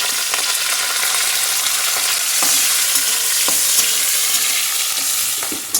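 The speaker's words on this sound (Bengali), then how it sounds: "উচ্ছেগুলো দিয়ে দিয়েছে এবার ভেজে নেবে ভালো করে" Loud, steady sizzling of bitter gourd frying in hot oil, with occasional scrapes and stirs from a spatula.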